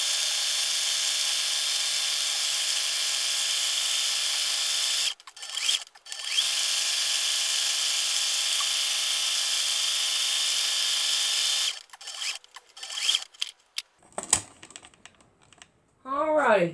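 A sewing machine stitches around fabric with a steady, close mechanical buzz, stopping briefly twice, then giving way to handling noises and a voice at the end.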